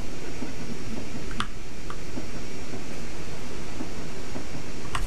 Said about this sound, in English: Okay, but actually, how long is this train?